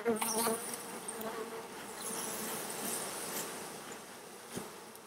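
Honey bees buzz steadily around an open beehive, a soft continuous drone with brief louder passes close by.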